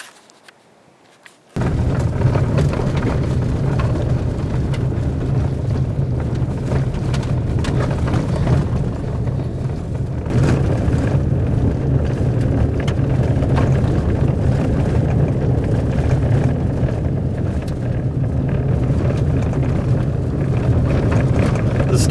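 A truck driving up an abandoned dirt road near Las Vegas: after a moment of quiet, a steady engine and tyre rumble starts and continues close and constant, with occasional bumps.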